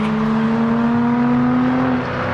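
A Dodge Challenger on a race track drones past with a loud, steady engine note and a slight pitch shift, near and alone, with no talking.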